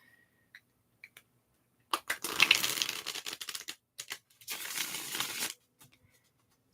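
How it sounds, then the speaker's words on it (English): Tarot cards being shuffled close up: a few light taps, then two longer bursts of riffling, crisp papery shuffling separated by brief pauses. "I'm going to shuffle your cards."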